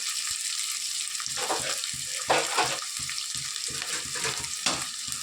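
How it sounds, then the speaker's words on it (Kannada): Onions and greens sizzling in hot oil in a pan while a tomato gojju is cooked, a steady crackling fry punctuated by soft scraping stirs and watery hiss. "ಈರುಳ್ಳಿ ಮತ್ತು ಕಬ್ಬಿನ ಸೊಪ್ಪನ್ನು ಹಾಕ್ಕೊಂಡು ಸ್ವಲ್ಪ ಹೊತ್ತು ಎಣ್ಣೆನಲ್ಲೇ ಫ್ರೈ ಮಾಡ್ಕೋಬೇಕು"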